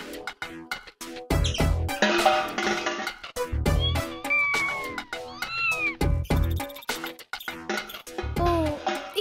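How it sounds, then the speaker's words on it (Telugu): A cartoon cat in a Telugu kids' animation lets out several drawn-out, rising and falling meows between bursts of music and sound effects. "గంటు పిల్లి తిరుగుతూ ఉంది"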